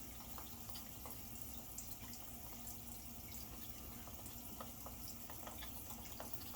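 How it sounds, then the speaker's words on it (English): Cold water runs from a sink tap in a steady, faint stream, with small intermittent splashes and drips and no talking. "2 splashes of cold water straight out of the sink."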